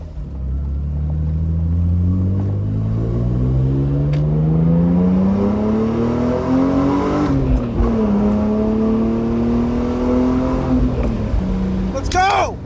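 A BMW E46 M3 engine pulls under acceleration, its loud droning note climbing steadily in pitch, dipping briefly at a gear change, then rising again, heard from inside the car.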